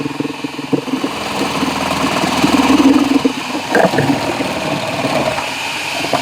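A household food processor and blender motor runs loudly and steadily at close range, a continuous whirring drone with rough grinding under it throughout.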